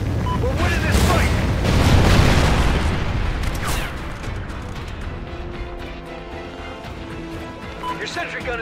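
A Trinity rocket strike explodes in the shooter game Call of Duty: Ghosts: a loud, deep boom with heavy rumbling that swells over the first few seconds and then trails off, with voices and battle chatter continuing after.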